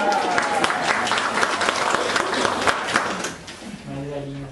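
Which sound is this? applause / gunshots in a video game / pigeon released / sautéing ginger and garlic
applause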